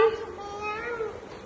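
A young child imitates a cat's meow, a brief close vocal mew that rises and falls over about a second and a half.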